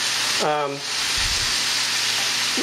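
Onion caramelizes slowly in a pan for a homemade burger, a loud continuous sizzle and hiss running throughout, briefly overlapped by a short voice-like tone near the start.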